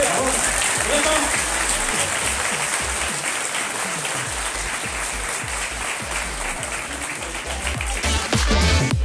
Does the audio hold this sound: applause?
yes